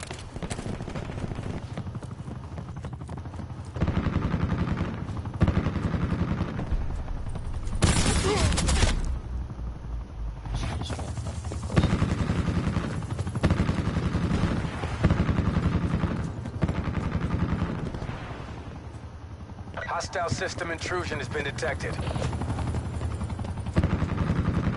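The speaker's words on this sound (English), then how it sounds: "Enemy attack chopper above." An enemy attack helicopter in a video game, with a droning rotor bed broken by repeated bursts of rapid gunfire, plus a synthetic announcer voice and a brief loud blast midway.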